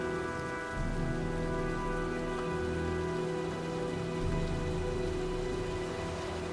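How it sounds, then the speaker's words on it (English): Heavy rain from an approaching storm in the video game Heavy Rain pours steadily, an even hiss over a low rumbling bed with a faint sustained tone running underneath. "Well, looks like a storm's coming."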